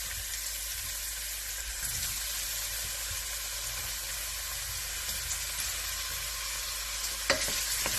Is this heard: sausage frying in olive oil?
yes